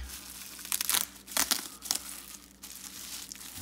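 Plastic wrapping around a Zero Tolerance 0308 folding knife crinkles and crackles in several close, sharp bursts during unboxing, with quieter rustling between them.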